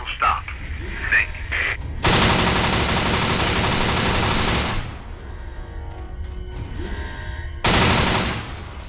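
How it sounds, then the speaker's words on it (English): An unmanned turret station in the video game Secret Service firing long sustained bursts of rapid automatic gunfire, loud and near, with two extended volleys and a third starting after a quieter gap. "I'm drawing fire from an unmanned turret station"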